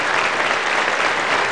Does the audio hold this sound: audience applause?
yes